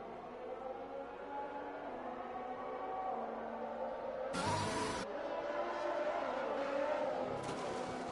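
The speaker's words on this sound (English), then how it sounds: "And now he's doing donuts for the fans." Simulated Formula 1 car engine from F1 2021 at the Austrian Grand Prix, spinning donuts: a steady, loud engine drone throughout with two bright bursts of high-revving noise, fairly close.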